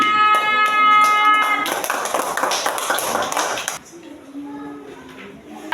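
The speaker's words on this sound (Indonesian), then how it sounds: "tepuk tangan untuk kelompok 4" A class of pupils claps for a student group in a school lesson: a dense burst of many hands in the middle, following a ringing tonal sound, then fading into a quieter room with low voices.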